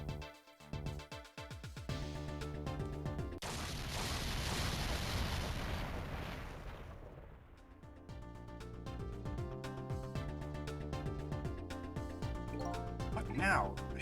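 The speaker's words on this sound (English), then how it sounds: "I think I heard an explosion somewhere." A deep, rumbling blast lasting a few seconds erupts amid melodic background music in the video game Ghost Trick: Phantom Detective, then fades back into the tune.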